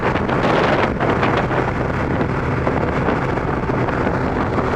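Heavy wind roaring over the microphone while riding a Kawasaki ZX-12R motorcycle at speed on a commute, a loud, constant buffeting rush that masks everything else.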